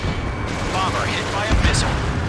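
In Ace Combat 7, a fighter jet launches a missile as a steady, loud engine roar carries a brief rising whoosh, with a radio voice speaking over the rumble.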